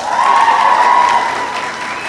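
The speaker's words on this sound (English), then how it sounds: "give this young lady a round of applause" An audience applauds a contestant at the Down Rose of Tralee pageant in 2015, with a loud, steady wash of clapping from a large crowd that fades slightly toward the end.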